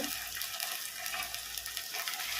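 Tomatoes frying in a pan for a prawn curry, a soft, steady sizzle and crackle that stays fairly quiet for the whole stretch.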